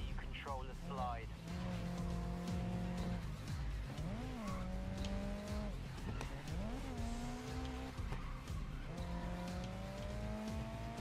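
Race car in the Grid Legends video game sliding through a corner under handbrake, engine tone rising and falling with tyre squeal and skidding, loud and continuous, with a voice talking over it.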